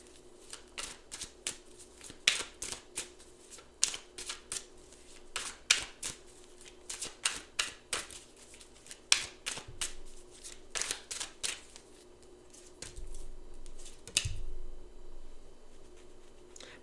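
Tarot cards are shuffled in a quiet room, a fast, close riffling patter in repeated bursts with short pauses, ending in a few softer shuffles and a low thump.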